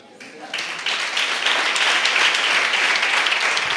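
An audience at a Pentecostal prayer centre service breaks into applause that swells quickly and holds as a steady, dense clapping through to the end.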